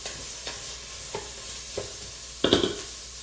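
Onions sizzling and being stirred in a pot for a parsnip, pear and pistachio soup: faint steady frying hiss with a few soft spoon scrapes and a louder clatter near the end, no talking.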